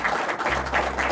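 An audience claps for a woman's 100th birthday, a brief, steady patter of applause throughout.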